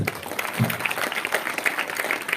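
An audience at a Hindi devotional talk on Krishna breaks into applause, a dense patter of many hands clapping continuously at moderate loudness, with no speech over it.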